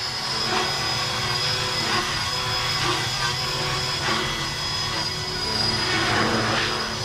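A Blade 330S RC helicopter fitted with a MicroHeli three-bladed head and metal swashplate flies in idle-up mode, giving a loud, steady rotor and motor whine with a high pitched tone throughout.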